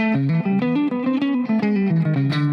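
A distorted electric guitar plays a quick repeating chromatic note pattern over a backing track, rising and falling in short steps.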